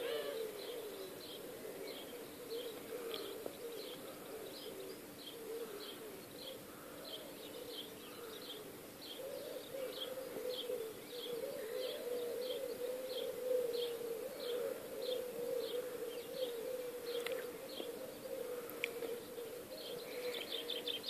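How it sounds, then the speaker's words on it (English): Birds sing at sunrise in a quiet morning outdoors, faint repeated chirps and trills running steadily throughout over a low continuous background hum. "I love hearing birds singing anyway."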